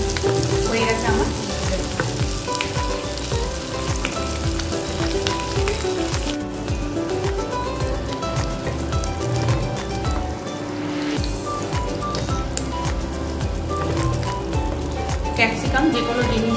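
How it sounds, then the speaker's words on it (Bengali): Capsicum, whole cashews and raisins fry in a pan, with a continuous close sizzle and intermittent scrapes and stirs running throughout. "ক্যাপসিকাম, গোটা কাজু আর গোটা কিশমিশ আমি দিলাম। অল্প একটু জাস্ট ভাজা ভাজা হবে"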